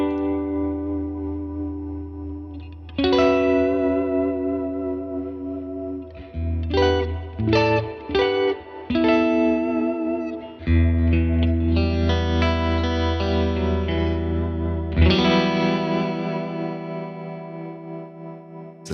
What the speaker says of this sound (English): Let's now do a short press and we bring in the tremolo.